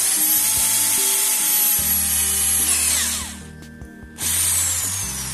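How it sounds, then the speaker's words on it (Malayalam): A power drill fitted with a circular hole-cutting socket bores through PVC sheet, a loud whining motor with stepped pitch changes as it bites, briefly easing off before spinning up again. "ഞാൻ ഡ്രില്ലർ ഉപയോഗിച്ച് അതിനെ കട്ട് ചെയ്തെടുക്കുകയാണ്"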